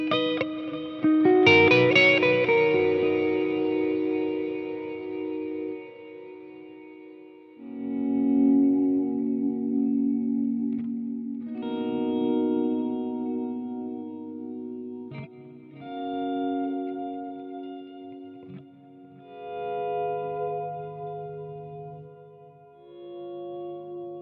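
Electric guitar played through a Friedman IR-X and Fractal FM3 effects rig rings out in clean, echoing chords and sustained pedal-steel-style swells, with long reverberant tails and no talking.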